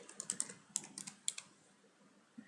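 Fingers type on a computer keyboard in a quiet room, giving a quick flurry of light, crisp key clicks that thin out into a few sparse taps.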